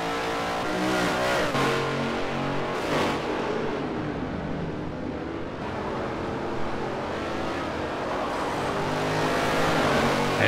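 V8 Supercar race cars in the Forza Motorsport 4 racing game roar at high revs, engines droning and shifting pitch as they push through the track, steady and loud throughout.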